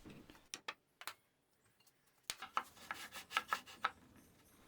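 A sander cleaning up a cut wood French cleat in a small workshop, faint rubbing and scratchy sanding passes in short bursts with clicks and pauses between them, no talk.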